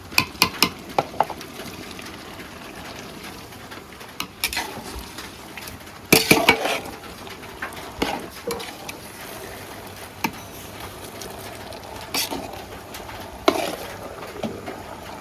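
Vegetables are stirred into oily biryani gravy in a large pot, with repeated loud clanks and scrapes of a ladle against metal over a low simmering sizzle, no speech.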